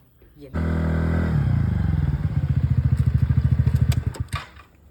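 A scooter engine starts abruptly and runs at a steady close hum, then settles into a rhythmic putter and fades quickly as it rides away.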